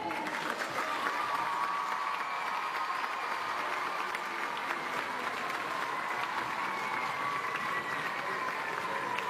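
Audience at a school show applauds the technicians who handled the sets, a steady, dense wash of clapping that holds evenly throughout, with faint voices and cheers mixed into the crowd.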